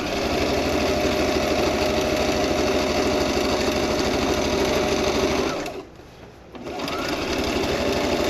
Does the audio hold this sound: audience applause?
no